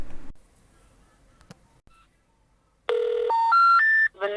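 A telephone keypad sends a short sequence of rising DTMF beeps, loud and close, after a stretch of near silence while calling multiple numbers from Europe.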